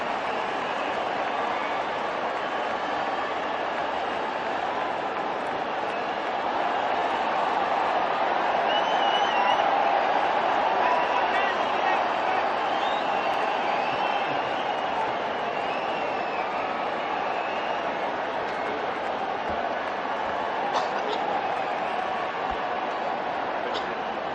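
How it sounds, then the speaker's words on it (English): Steady roar of a large crowd applauding at a women's cricket match, a dense continuous wash of clapping and cheering that swells slightly midway and holds throughout, with no talk over it. "I just want to pause because the applause is something to behold"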